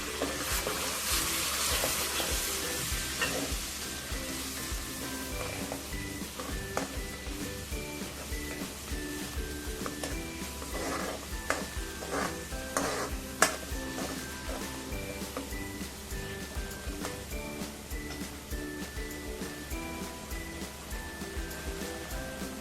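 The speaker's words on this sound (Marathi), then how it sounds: "ही टॅमॅटोची पेस्ट बनवलेली आहे ना ती याच्यात परतायला टाकायची आहे" Tomato paste with turmeric sautéing in a pan for a hotel-style veg Kolhapuri curry, giving a steady close sizzle and fry throughout with occasional stirring clinks and scrapes, no talking.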